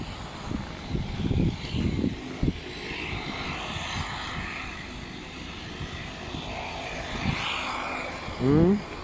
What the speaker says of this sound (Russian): 300-й бомбардир сел, слышно по двигателям.